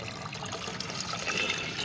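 Water is poured to fill a container of homemade organic fertilizer, a continuous close trickling and splashing that stays steady and moderately quiet throughout.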